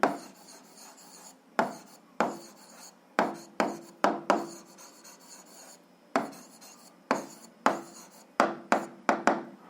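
A pen scratches out the answer to a 7th-grade algebra exercise on paper, in a run of close, crisp rasping strokes broken by short pauses, with no talking.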